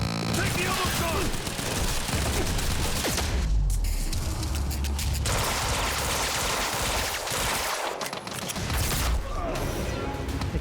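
Sustained gunfire in the action shooter Quantum Break, a loud, dense barrage of shots with booms and crashes, broken by a couple of brief lulls, with voices talking over it at times.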